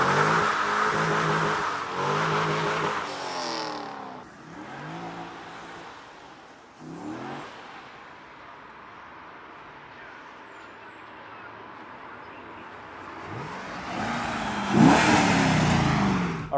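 A C5 Corvette Z06 engine in a go-kart conversion revs hard on a test drive, loud rising roars with gear changes, then settles into a low idle rumble before revving loudly again near the end.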